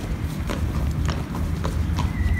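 Horse hooves clip-clop at barrel racing training, a quick rhythmic series of hoofbeats over a steady outdoor rumble, fairly loud and near.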